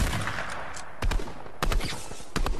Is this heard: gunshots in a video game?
yes